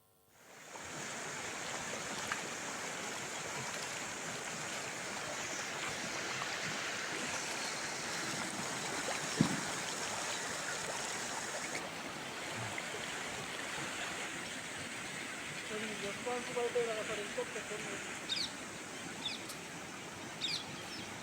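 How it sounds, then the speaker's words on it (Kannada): River water pouring through a barrage dam, a steady rushing flow heard at moderate distance for the whole stretch, with occasional small splashes and faint bird-like chirps. "ಕಿಂಡಿ ಅಣೆಕಟ್ಟಿನಲ್ಲಿ ನದಿ ಹರಿವು ಹೆಚ್ಚಳವಾಗಿದ್ದು"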